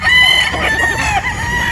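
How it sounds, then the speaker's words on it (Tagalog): Boston Roundhead gamecocks crowing continuously at close range in a breeding yard, overlapping calls forming a loud, steady chorus with no pauses. "Yan po yung aming mga manok nandito"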